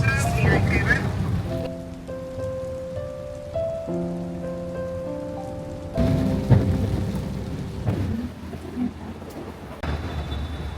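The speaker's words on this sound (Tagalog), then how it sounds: "At sa pag-alis namin ni Chanel, bumuhos ang isang napakalakas na ulan" Heavy downpour with thunder, a dense hiss of rain and low rumbles, strongest at the start and returning later, while soft sustained music tones sit over a quieter middle stretch.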